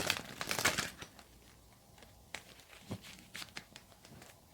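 Tarot cards being shuffled by hand, a crisp burst of riffling followed by scattered soft slaps and card flicks, close and fairly quiet with no talking.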